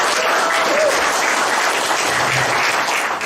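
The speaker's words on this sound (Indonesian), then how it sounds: "Boleh tepuk tangan." An audience at an agricultural consultant's talk on eco farming applauds, dense steady clapping filling the room at close range for the full length, with no break.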